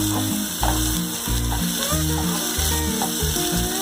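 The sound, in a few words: onion and tomato sautéing in a pan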